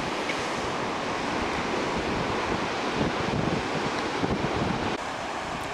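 Ocean waves and wind roll steadily along the coast at Muxía, a continuous full surf wash with wind buffeting the microphone throughout, and no voices.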